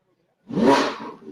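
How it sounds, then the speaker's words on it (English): A 2015 Ferrari 458 Speciale Aperta, an Atelier-built special model, gives a short loud engine rev that swells quickly after a moment of silence and then eases off, heard up close with no talk. "Listen to that engine."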